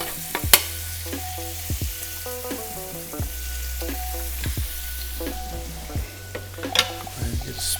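Garlic and shrimp frying in a pan for a scampi-style topping, a steady close sizzle with spoon clinks and stirring knocks scattered throughout, no talk.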